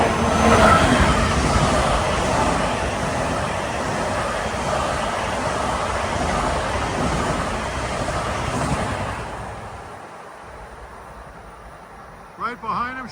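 A Long Island Rail Road train, number 2064 from Grand Central to Ronkonkoma, passes in the Garden City area with a loud rolling rumble that fades away after several seconds, leaving quieter background noise and a few brief sounds at the end.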